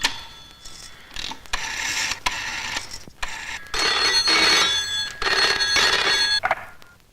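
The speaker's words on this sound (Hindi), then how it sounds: "मैं एक फोन कर सकूं हूँ?" A telephone rings steadily in a Hindi film scene, its bright electronic trill repeating in bursts with short pauses between them, loud and close, with no talking over it.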